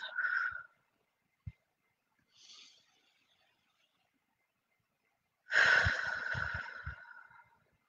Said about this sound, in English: let's get back to our deep breathing in through the nose and out through the mouth